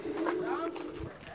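Fancy pigeons in a loft give a short, low cooing call, close by and moderately faint, with a voice speaking over it.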